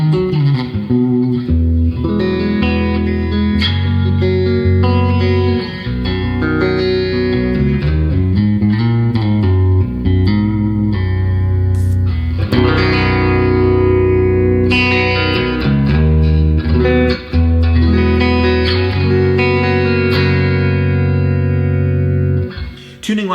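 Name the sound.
baritone guitar, middle pickup position, Telecaster-like tone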